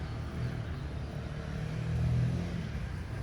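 A motorbike on a street, its engine rising to a louder low drone that peaks and then fades as it goes by at moderate distance, over quiet background street noise.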